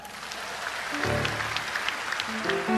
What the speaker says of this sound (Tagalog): Pag sinabing palakpak